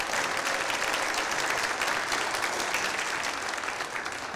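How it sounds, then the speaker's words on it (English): An audience at a school board meeting claps for student singing soloists, with a steady, fairly loud round of applause throughout. "give another round of applause for our soloists"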